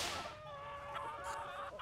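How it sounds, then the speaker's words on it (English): Chickens cluck and squawk close by in a short, busy burst, with sharp calls layered over a steady background. "Scared the chickens."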